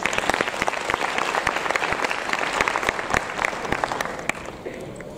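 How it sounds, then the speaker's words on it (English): Audience applause at a data analytics and content marketing conference session, a dense steady clatter of many hands clapping for three speakers, holding strong for the full stretch and thinning slightly near the end. "Can we just give all three speakers a round of applause again?"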